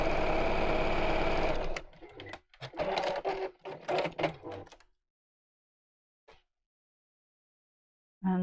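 A domestic sewing machine runs steadily for about two seconds while stitching fabric in straight lines, then gives several short, uneven bursts of stitching and mechanical clatter before falling silent, with one faint tap near the end.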